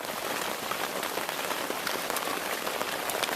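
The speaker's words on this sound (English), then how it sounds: "Man, it's raining a lot now." Heavy rain pours onto a lake as a dense, even hiss of countless drops, loud and unbroken throughout with no voices.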